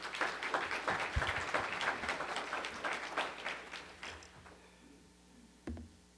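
Congregation applauding warmly to welcome a pastor arriving to preach at a Korean church service, a dense wash of clapping that fades out over several seconds before a single thump near the end.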